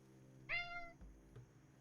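A cat lets out a single clear meow, close and distinct, over a quiet steady background hum, followed by a couple of faint low thumps.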